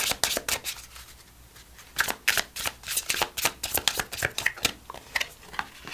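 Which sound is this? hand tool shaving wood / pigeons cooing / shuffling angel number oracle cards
shuffling angel number oracle cards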